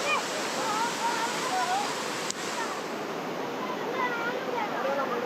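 Rushing river current below a dam releasing water after heavy rain, a dense continuous roar of water up close, with faint voices beneath it.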